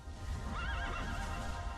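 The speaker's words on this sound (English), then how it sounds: "it created a portal and a horse appeared and whinnied with the dice I'm using on D&D Beyond" A horse's whinny plays as a sound effect from D&D Beyond digital dice, loud and close, with a wavering neigh rising and falling over a dense, noisy background, and no talk.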